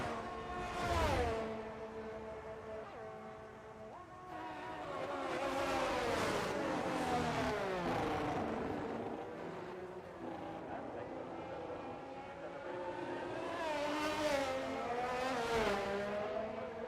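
Race car engines in a sim racing league event at Mexico whine and rise through gears, with cars passing in swelling surges across the stretch while a commentator talks over the engine noise.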